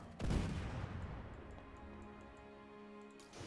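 A single heavy boom sets off a ranged barrage on a city in Civilization VII, then fades into a long ringing tail of ticking impacts and hum.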